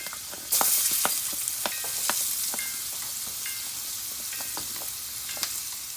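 Onion for Jamaican-style curry shrimp hits a hot pan with a sudden loud sizzle that settles into steady frying, broken by occasional stirring clicks and scrapes, close up with no talking.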